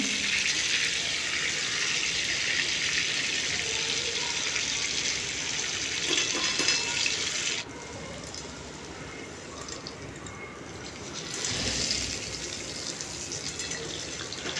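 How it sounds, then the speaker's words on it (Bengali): Raw mango pieces frying in oil for a pickle, giving a continuous broad hissing sizzle that stays close and steady, easing briefly midway before swelling again, with no talking. "এখানে আমগুলোকে একবারে লাল লাল করে ভেজে নেব"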